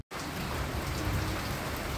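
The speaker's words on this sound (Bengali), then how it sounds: "আর এখন হঠাৎ করেই বৃষ্টি নামছে" Rain pouring down in a sudden shower after days of heat, a dense, steady hiss of drops close by, continuous after a brief silent start.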